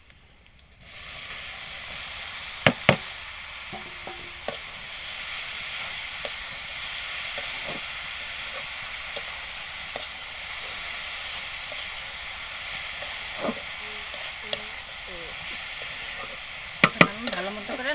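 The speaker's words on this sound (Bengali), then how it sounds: "এখন আমি শাকটা দিয়ে দিব।" Leafy kolmi greens drop into a hot pan of fried chili, garlic and ginger, bursting into a loud, steady sizzle with occasional scraping clicks from stirring over a continuous hiss.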